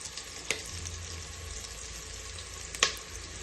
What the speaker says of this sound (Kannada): ಈರುಳ್ಳಿ ಹಾಕಿ ನೋಡಿ, ಹೀಗೆ ಚೆನ್ನಾಗಿ ಬಾಡಿಸ್ಕೊಬೇಕು.